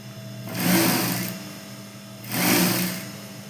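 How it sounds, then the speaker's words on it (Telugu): Sewing machine stitching the double-folded neck edge of a half petticoat, running in two steady whirring bursts with a short pause between, close and clear with no talk. "డబల్ ఫోల్డ్ చేసుకుంటూ సన్నగా మనము మొత్తం నెక్ అంతా నీట్గా స్టిచ్ చేసుకోవాలి"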